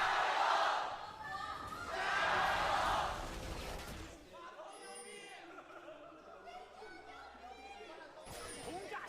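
Loud esports arena crowd shouting and cheering at a League of Legends match bursts out twice, then settles into a quieter murmur of chatter and scattered calls.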